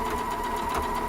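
A sewing machine stitches fabric in a steady, fast, close whir with a rhythmic mechanical pulse, running alone without talk.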